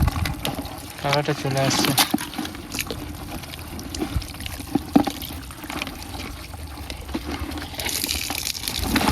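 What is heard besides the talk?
water being poured out of a container of crabs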